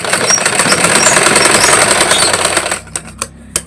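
A sewing machine stitches a six-panel petticoat in a rapid, steady mechanical chatter, loud and close, then stops and leaves a few separate clicks and knocks.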